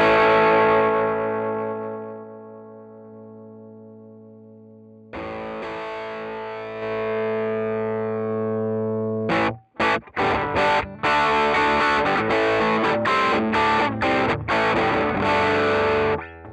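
An electric guitar played through a NUX MG30 amp model with an overdriven tone: sustained distorted chords ring out and decay, then a new chord sustains, followed by a run of choppy, rhythmic strummed hits.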